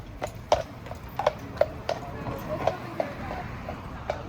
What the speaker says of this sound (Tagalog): Mayroong kabayo dito sa Victoria